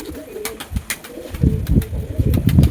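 A heavy-booted Lotan pigeon with long, feathered feet coos close by in a series of low, throaty pulses, growing louder toward the end, with a faint voice in the background.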